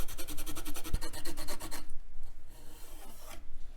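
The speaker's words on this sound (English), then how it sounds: "now it's time to freshen up these edge connectors with a fiberglass scratch pen." A fiberglass scratch pen scrubs the edge connectors of a vintage computer card in rapid rhythmic rasping strokes, close and loud, then slows to lighter, sparser rubbing.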